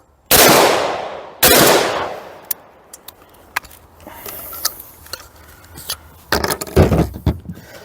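A 12 gauge side-by-side double-trigger shotgun fires two loud close blasts about a second apart, each with a long decaying echo, followed by metallic clicks and clatter of the action being handled.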